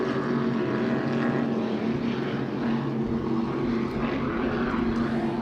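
A loud, steady engine roar of a racing powerboat passing close by during the New York Super Boat Grand Prix, droning continuously with no pauses.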